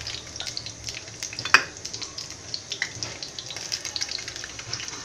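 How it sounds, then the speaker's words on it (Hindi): Mustard seeds and cumin sizzling in hot oil for sambhar to go with masala dosa, a soft steady crackle with scattered small pops and one sharper snap near the start, heard up close. "गर्म करने के बाद हम राई जीरा डालेंगे। हाफ टीस्पून राई और हाफ टीस्पून"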